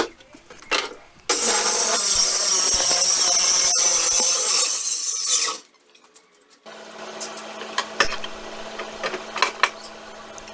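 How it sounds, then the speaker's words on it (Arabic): A red APT 9.25-inch 2200 W circular saw cuts a board in a loud, steady whining burst of about four seconds. A quieter motor hum follows after a short pause. "وبالدريل بدأت أثبتها وأقطع الجنب التاني بالمنشار."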